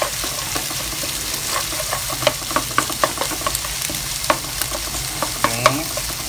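Eggs for Hokkien mee stir-fry in a pan, with a steady sizzle broken by a string of sharp spatula scrapes and knocks at an uneven rhythm, close and fairly loud.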